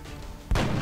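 One sharp weapon shot in the XCOM Long War mod breaks a quiet, low background, a sudden loud blast followed by a sustained rumble.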